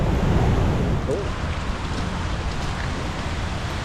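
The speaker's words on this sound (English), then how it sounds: "Legend tells us Janet or Jeanette, queen of the local fairies, lived in a cave behind the waterfall." Janet's Foss waterfall near Malham, Yorkshire pours as a steady, dense rush of water, loud and close, with a voice faintly present over it.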